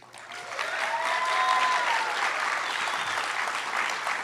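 Loud, continuous applause from an audience at the Cal Maritime senior awards ceremony, a broad even roar of many hands clapping that swells and stays full throughout.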